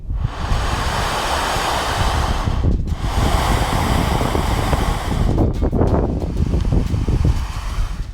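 Wind roars in a constant, heavy rush, like air surging through an enclosed space, with brief dips in the middle and no voices.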